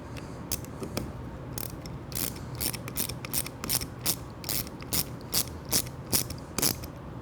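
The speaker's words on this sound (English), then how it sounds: "using an 11 millimeter socket, you want to tighten this nut up" A ratchet with an 11 mm socket tightens a nut on a 2023 Ducati Scrambler, producing close, crisp bursts of clicking strokes that quicken into an even, repeated rhythm.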